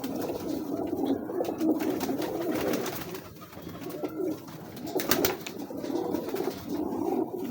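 A breeding pair of old Teddy pigeons coos softly nearby in repeated throaty rolling phrases, with faint background noise and a few wing rustles.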